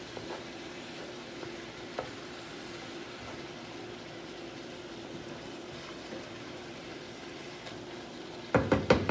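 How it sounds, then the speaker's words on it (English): Italian sausage sizzles softly in a pan with a faint steady crackle, occasional light clinks, and louder scraping stirs near the end. "So the Italian sausage is cooking."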